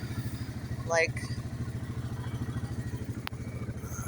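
An ATV engine putters along in a steady pulsing rhythm while someone talks over it on a ride through Labrador, Canada, with a brief clatter near the end.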